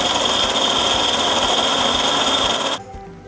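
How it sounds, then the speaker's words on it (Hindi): An electric grinder blends sesame seeds with olive oil, running as a loud, steady whir for about three seconds before cutting off abruptly into quiet. "ये देखिए कितना अच्छे से तिल जो है ऑलिव ऑयल के साथ ग्राइंड हो गए"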